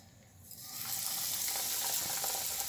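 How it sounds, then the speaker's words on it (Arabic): Beef steak frying in a pan gives a steady, bright sizzle that swells up from a quieter start and holds loud and close, with no talk over it. "نحمر البفتيك بتاعنا اللي احنا عملناه اهو"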